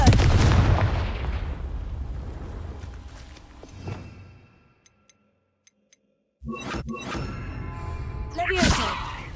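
Confringo fire-blast spell in Hogwarts Legacy: a loud booming burst that fades into a rumbling tail, then a short near-silence broken by faint ticks, and another forceful crackling blast with a whooshing surge at the end.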